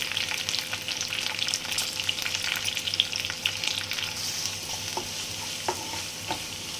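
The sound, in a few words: garlic sautéing in a pan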